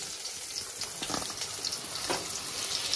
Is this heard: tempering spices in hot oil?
yes